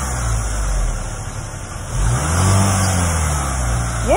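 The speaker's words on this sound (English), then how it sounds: "now we're gonna get some revs" A 2021 Cadillac XT4 engine idles with a low hum, then is revved twice, each rev rising in pitch and falling back, close and loud with no talk over it.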